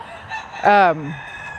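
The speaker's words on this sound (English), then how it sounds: "this year's young roosters" A single short rooster crow rings out nearby, a hoarse, brief call that trails off quickly against faint background noise.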